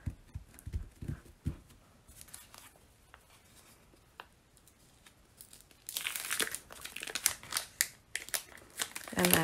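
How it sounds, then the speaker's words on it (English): Backing sheet being peeled off a cling stamp sheet, close crinkly plastic crackles that grow louder and denser toward the end, after some quieter handling and taps earlier on. "and then peel off the back."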